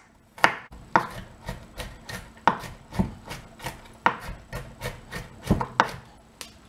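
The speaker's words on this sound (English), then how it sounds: "And then the garlic, chop it into small pieces." Garlic cloves being chopped into small pieces with a knife on a cutting board, a steady series of about a dozen sharp, close knocks roughly every half second, with no talking.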